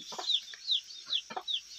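A free-range country hen clucks in a farmyard, giving a few soft, repeated rising calls close by, with no talk over them.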